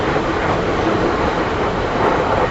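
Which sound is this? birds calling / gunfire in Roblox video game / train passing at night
train passing at night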